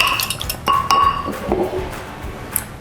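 Butter and buttermilk are whisked together in a bowl for banana bread batter, giving quick metallic clinks and scrapes of a whisk against the bowl, close and fairly loud, with no talking.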